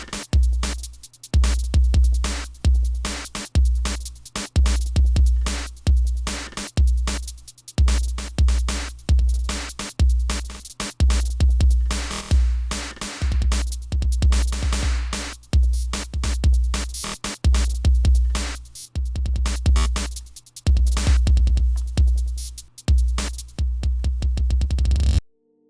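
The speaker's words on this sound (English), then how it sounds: "a really simple pattern on the kick and the bass drum" A steady electronic drum beat in FL Studio, punchy kicks thumping in a repeating pattern with a quick shaker-like cabasa ticking over the top, loud and continuous.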